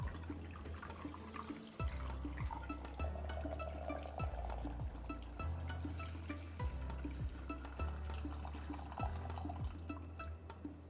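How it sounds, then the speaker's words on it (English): Water pours steadily into a steamer pot, filling the simmering basket, a continuous gurgling stream with intermittent drips and splashes, close and fairly quiet. "I'm going to keep on pouring water until I see my simmering basket is filled"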